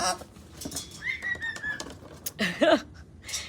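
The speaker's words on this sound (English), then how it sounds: "Yes, he's a baby bird." A baby bird calls in short, thin squeaks and chirps over faint background noise, with a slightly louder burst of calls near the end.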